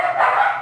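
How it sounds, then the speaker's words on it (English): A single short bark or yip from an Italian Greyhound, close and fairly loud, heard alone. "that barking used to really bother me."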